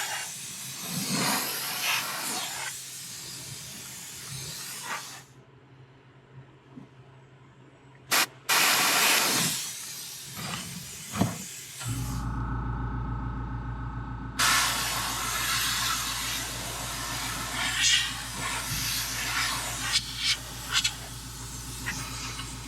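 Airbrush spraying black paint onto a swimbait, steady hissing bursts of air that start and stop several times, close and fairly loud, with a low compressor-like hum beneath.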